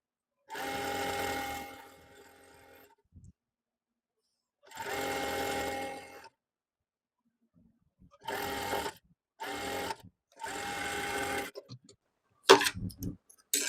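Sewing machine stitching the side seams of an Afghani trouser, starting from the hem, running in several bursts: two long runs, then three shorter ones and a few quick clicks at the end, close and clear with no talking.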